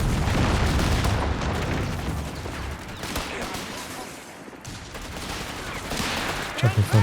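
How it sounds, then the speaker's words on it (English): Mortar and gunfire rumble continuously in the World War II strategy game Company of Heroes 3, dense overlapping booms and crackling shots in a busy multiplayer battle, under a commentator's talking. "trying to dodge the mortar fire"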